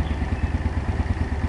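A cold, carbureted Honda Biz 125 motorcycle engine idling unevenly close by: a loud, continuous low putter with a fast pulsing beat that wavers slightly, running on its own without speech.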